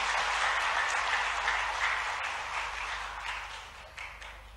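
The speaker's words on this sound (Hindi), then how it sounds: "तो एक बार जोरदार तालियां बजाएं महाराज जी के लिए।" A large crowd at a government workshop on cow shelter management applauds loudly for a spiritual leader, dense clapping that starts full and gradually fades over a few seconds.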